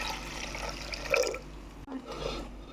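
Water is poured into a cooking pot for Odia-style dalma, a short, splashy gush with a brief break before the pouring resumes, with no talking.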